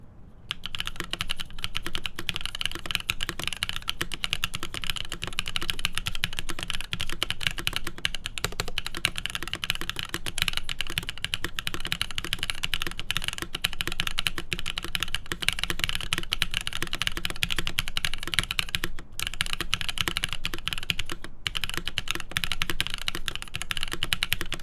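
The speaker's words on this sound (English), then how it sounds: "I'm gonna type more slowly." Steady, close-up keystrokes on a custom TKL mechanical keyboard, typed at a slow, even pace. Dense clicks and clacks run continuously with no talking.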